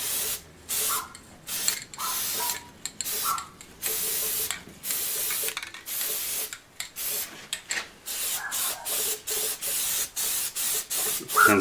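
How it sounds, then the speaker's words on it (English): Repeated hissing bursts of an aerosol can spraying Magnaflux dye penetrant, each lasting about a second with short gaps between them, loud and close. "I'm going to spray these over here too on this side."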